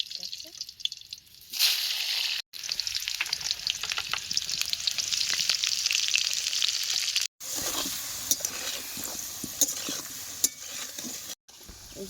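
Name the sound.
potatoes frying in a pan over a coal fire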